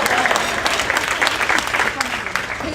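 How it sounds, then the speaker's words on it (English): An audience at a school district's state-of-the-district event claps for sponsors, a close, loud, continuous burst of applause with voices mixed in. "We'll still clap."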